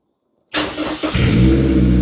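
After half a second of silence, a Honda S2000 race car is started by push button: the starter churns briefly, then the engine catches and settles into a loud, rumbling idle close by.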